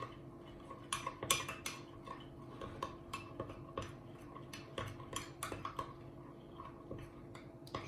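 A metal spoon clinks and scrapes against a cup while stirring hot water into chocolate and coffee for a mocha, a quiet irregular series of sharp taps and rattles with no talking.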